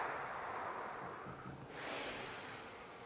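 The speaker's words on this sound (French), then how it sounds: "Parmi eux, la respiration yogique." A long, steady breath blown out during a yogic breathing exercise for stress, a close airy whoosh that swells briefly near the end, with no talking.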